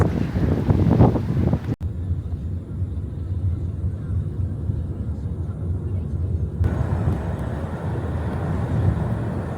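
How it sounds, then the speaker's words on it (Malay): Strong wind buffeting the microphone on Jeju Island in wind and rain, a loud, continuous roaring rumble with a brief dropout partway, and a voice heard faintly at the start. "Angin kuat sangat."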